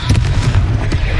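A Confringo spell blast in Hogwarts Legacy, a brief booming burst with a low rumble, heard close and loud.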